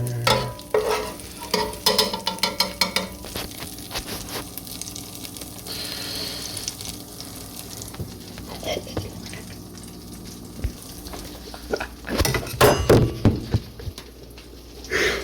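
Food fries in butter in a pan, with a low sizzle running underneath repeated clattering stirs and scrapes of a utensil, close by, and occasional louder bursts of clatter.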